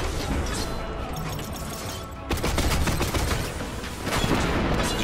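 Gunfire in Destiny 2, sustained loud bursts of weapon fire and impacts, with a brief lull before a heavier barrage kicks back in and keeps going.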